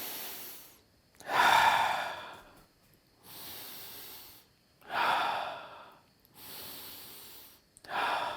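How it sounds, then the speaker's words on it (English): Deep diaphragmatic breathing, shown slowly: four long audible inhale-exhale cycles, each a breathy rush of air rising and fading with short pauses between, close to the microphone and with no talking. "So the way we breathe, we move these two diaphragms together like this"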